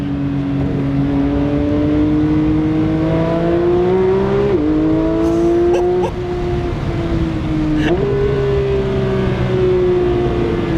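Porsche 911 GT3 of the 992 generation revving its engine toward 9000 RPM, a loud, close, high-pitched wail rising steadily in pitch with brief dips at each gear change and no talking.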